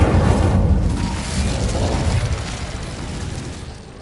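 An Incendio fire spell in Hogwarts Legacy bursts out as a loud whooshing blast of flame. It fades gradually into a rushing roar over a few seconds.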